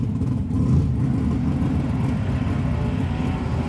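A Chevy S10 with a 5.3 V8 and an aggressive cam idles and revs loudly up close, a steady deep engine rumble with a slight surge early on, running alone with no talk over it.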